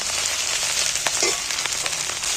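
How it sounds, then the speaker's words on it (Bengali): Ginger and garlic frying in hot oil make a loud, continuous close sizzle with faint crackles and a soft stir partway through. "আমি এখানে আদা রসুন তুলে দিচ্ছি, রসুনটা ভেজে নিচ্ছি।"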